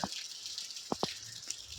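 Faint, steady rain hisses outside with a few distinct water drips landing close by.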